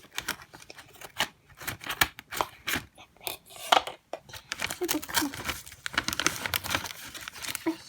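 Scissors snip open a crinkly plastic popsicle surprise wrapper, making close, sharp crackling and rustling bursts in uneven bunches, with a voice speaking softly at times.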